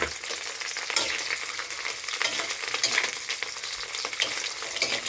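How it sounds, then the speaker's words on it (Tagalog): Dilis anchovies crackle and sizzle steadily in hot cooking oil, a dense, continuous close-up frying hiss with small pops throughout and no voices. "piniprito ko muna itong dilis"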